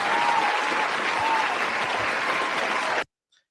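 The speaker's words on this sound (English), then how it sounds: "So we want to clap that up." Audience applause at a live primary-results watch party, a dense, steady wash of clapping that holds for about three seconds and then cuts off abruptly into silence.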